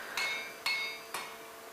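A blacksmith hammers curvature into a forged parang blade with three evenly spaced metallic strikes, each ringing briefly, close by with no talk.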